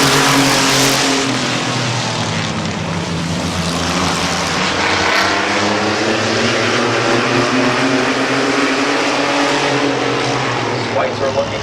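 Race cars at Midvale Speedway roar around the oval in a loud, continuous engine drone that rises and falls as they pass, with a race announcer talking over the noise.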